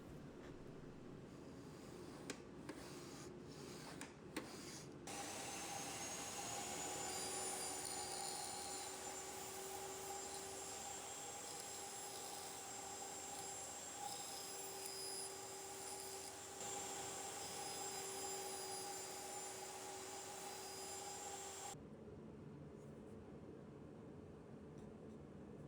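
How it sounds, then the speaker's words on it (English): Table saw spinning up and cutting tenons with a homemade crosscut sled, a steady high-pitched whine holding for about seventeen seconds before stopping abruptly, preceded by a few light clicks and handling taps. "to cut the tenons, I'm going to use this crosscut sled that I made for my table saw"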